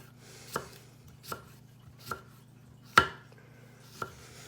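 Knife slicing shrimp on a cutting board: five distinct chopping knocks spaced roughly a second apart, the fourth noticeably louder, close and clear over a faint steady hum.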